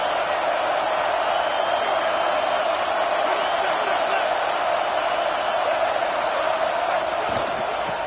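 A stadium crowd in a college football video game with UCLA playing cheers and roars in a steady, loud wash of noise on third down, with no other sound standing out.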